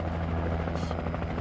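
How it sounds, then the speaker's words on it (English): A helicopter in the video game Alan Wake flies close overhead, its rotor a steady, loud, throbbing drone that carries through the whole moment without any voices. "There's our helicopter friend."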